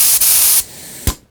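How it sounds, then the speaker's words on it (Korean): An air spray gun sprays paint during a self-done interior renovation: a loud, close hiss runs for over half a second, drops away, then returns in a short second burst that fades out. "페인트도 칠해야 되니까 에어스프레이건도 필요하고요"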